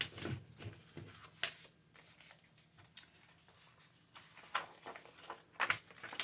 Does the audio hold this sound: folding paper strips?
yes